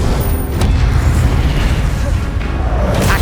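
An Incendio fire spell blasts in Hogwarts Legacy on PlayStation 5: a loud, dense, rumbling burst of flame that roars steadily for a few seconds, with game sounds and a faint voice mixed in.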